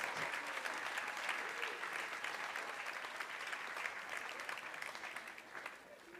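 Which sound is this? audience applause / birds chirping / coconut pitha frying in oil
audience applause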